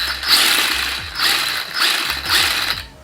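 A Bezgar HM164 remote control truck's electric motor runs on its low speed setting with a steady mechanical whir and gear ratchet, rising and falling in four rhythmic surges, loud and close with no talking.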